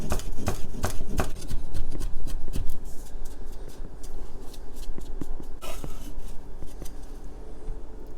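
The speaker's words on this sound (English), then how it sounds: "And again, we'll just give it a chop." A knife chops laver seaweed for egg drop soup on a cutting board, with quick, close, crisp strikes that come densely at first and then thin out into steadier chopping, with no voices.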